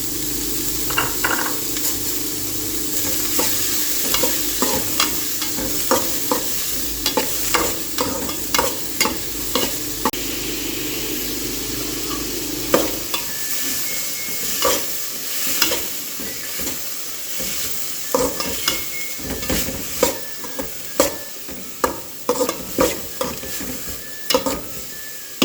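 Onions and curry leaves fry and sizzle in a pan for mutton keema, with a steady sizzle under repeated scraping stirs from a utensil against the pan, close and clear, no voices.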